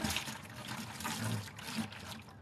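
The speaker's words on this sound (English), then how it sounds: "I've got all this extra water here, so just pour it right in the bucket." Leftover water from concrete work poured into a bucket, a short, faint splashing trickle of liquid running for a couple of seconds.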